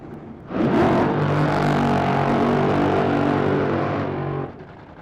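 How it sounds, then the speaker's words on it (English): An NHRA Ford funny car drag racer rolls in at the Gatornationals, its engine rising into a loud, sustained, harmonic roar that holds steady for several seconds before cutting off abruptly, with no talk over it. "Chad Green rolling in now. The Boxo Bond Coat Ford in the left side."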